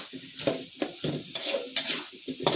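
Spice paste for red chicken rendang, with ground coriander added, sautéing in a pan and stirred in repeated scraping strokes over a steady close sizzle, with no talk.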